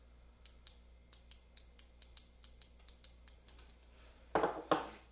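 A 1/4 inch ratchet, a Gearwrench 120XP or a Tekton 90T, clicks close up in a quick, even run of about a dozen sharp ticks. A couple of louder rasping clicks follow at the end.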